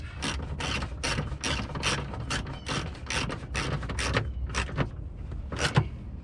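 Ratchet tightening cheap aluminum window regulator bolts on a 2001 Buick LeSabre front power window, a steady run of close, rapid clicking strokes repeated throughout.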